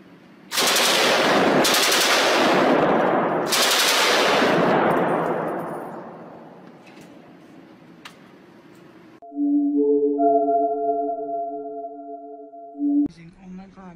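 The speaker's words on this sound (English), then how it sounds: "PKM, general purpose machine gun." A PKM general purpose machine gun fires three loud, close bursts in quick succession, their echo rolling away into a long fading tail, after which a steady electronic tone plays for several seconds.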